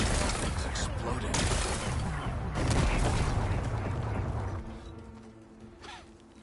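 Loud, sustained explosion blasting away rocks in the video game Horizon, a dense rumbling roar with crackling debris that holds for several seconds before tapering off into quieter game ambience.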